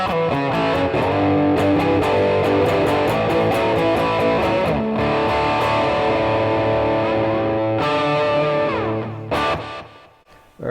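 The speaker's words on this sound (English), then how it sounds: "that's the distortion right at about 9 o'clock" Electric guitar through a hand-built Tube Driver clone distortion pedal at a moderate gain setting, playing sustained overdriven chords and riffs with thick harmonics, then stopping and ringing out near the end.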